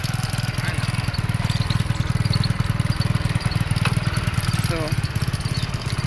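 A tractor engine running on a farm, a steady close low chugging throb with a brief spoken word over it.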